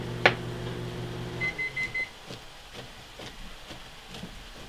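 Microwave oven running in a kitchen, a low steady hum that stops, followed by a short series of electronic beeps and quiet clatter.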